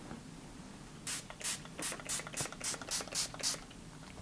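A Makeup Mecca makeup setting spray bottle fires nine quick, close hissing spritzes in an even rhythm, each short burst followed by a brief pause, in an otherwise quiet room with no speech.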